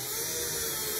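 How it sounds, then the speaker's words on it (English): A power drill whines steadily and loudly, boring an anchor hole in drywall for a curtain rod mount, one continuous close-up burst with no talking. "Put it in. Drill."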